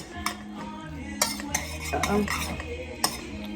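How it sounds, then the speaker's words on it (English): A utensil stirs egg into macaroni noodles in a bowl, with soft scraping, clinking taps against the dish and squelchy mixing at close range, fairly quiet and with no talk. "Now we're going to stir. Stir, stir, stir. We're going to mix it all in."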